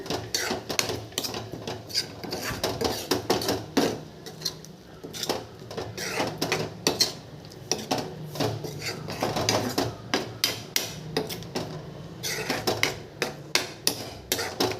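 A spoon scrapes and knocks steadily against a pan as ground spinach kootu with moong dal is stirred after salt goes in, giving close, repeated clinks and taps for the whole stretch.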